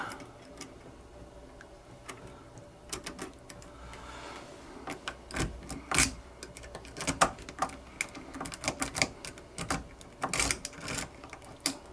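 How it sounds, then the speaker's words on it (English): A lock pick working pins inside a lock makes small, irregular metallic clicks and ticks. They come close up and sparse at first, then grow denser and sharper toward the end, with no talking. "I had the pins down, I could hear them clicking there"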